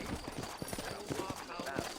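Horse hooves clip-clop steadily on a dirt trail in the Western video game Red Dead Redemption, set in New Austin, a rhythmic series of soft hoof beats under faint ambient noise and background talk.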